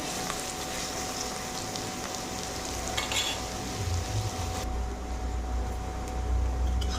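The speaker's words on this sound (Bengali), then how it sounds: "এখন পেঁয়াজটা আমি লাল করে ভেজে নেবো, বেশি লাল করবো না, হালকা লাল করবো।" Chopped onion fries in a pan with cumin while a chicken curry is being cooked, giving a steady, close sizzling hiss that continues evenly throughout with no talk.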